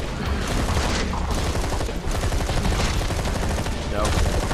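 Loud, rapid turret gunfire from the video game Zombi rattles in dense, continuous bursts, with shots overlapping into a steady roar that lasts throughout.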